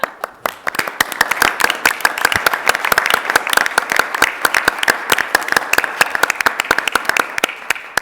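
Sustained round of applause from a seated crowd at a school board meeting, dense and fairly close clapping lasting throughout with a few voices faintly mixed in.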